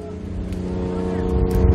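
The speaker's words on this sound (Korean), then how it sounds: "배의 과부하를 막기 위해 급히 엔진을 끄는데요" A work boat engine runs loudly at sea during navigation buoy work, a steady low drone that grows slightly louder toward the end.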